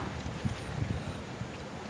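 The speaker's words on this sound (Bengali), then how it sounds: "দেখতে পাচ্ছ ঝড়ো হাওয়া দিচ্ছে হালকা হালকা" Steady stormy wind rumbles and buffets against the microphone under an overcast sky before rain, a low continuous roar with small gusty surges.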